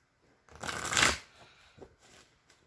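Soul cards are shuffled for a card reading, a quick close riffle of stiff cards that swells to a bright flurry before tapering into a few soft taps, with no talk over it.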